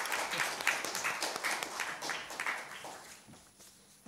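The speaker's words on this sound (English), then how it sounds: "Let us all give our three speakers a round of applause." Conference audience applauding three speakers at a foreign policy conference, a steady wash of clapping over about four seconds that thins and fades toward the end.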